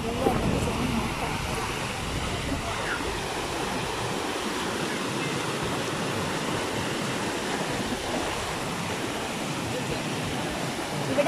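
Water in the Bharathappuzha river at Ottapalam flows over a concrete bed in a steady, broad rushing wash that holds an even level throughout, with no voices heard.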